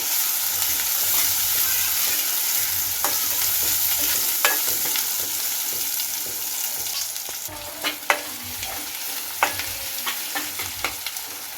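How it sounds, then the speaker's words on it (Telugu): Onions sizzle steadily in oil while a spoon scrapes and clinks against the pan, with sharper stirring knocks toward the end. "చూడండి ఈ విధంగా మంచిగా గోలాలి"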